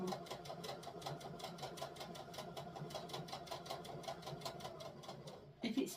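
A domestic sewing machine stitches a fabric bowl cover in a fast, even whirring patter that runs steadily and fairly quietly before cutting off near the end with a small clunk.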